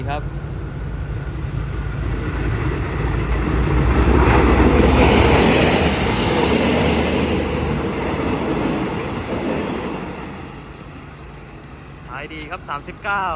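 Freight train no. 722 hauled by an Alsthom locomotive on the Thai railway between Surat Thani and Khlong Sai, rumbling past with a swelling roar of wagons and wheel noise that peaks and then fades, with a brief horn near the end.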